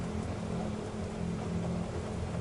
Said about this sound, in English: Rain hissed on the windshield like static.